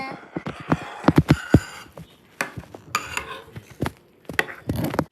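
A spoon stirring ayran, a yogurt drink, mixed with water in a container, giving irregular clinking and tapping knocks in bursts with quieter gaps, close by.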